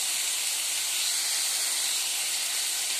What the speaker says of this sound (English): We can fry separately also all these four items, but I am frying together.